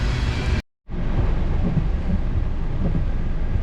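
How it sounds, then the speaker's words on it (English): A loud, steady low rumble of a train passing at a crossing fills the whole stretch, broken by a brief dropout near the start, with no talking. "Train is still going."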